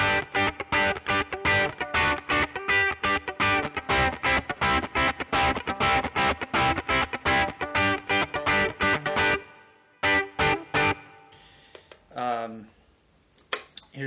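An electric guitar runs through the tube driver effect on a Line 6 POD HD500X, playing a fast, evenly strummed rhythm of distorted chords that breaks off into sparse stabs and sliding notes.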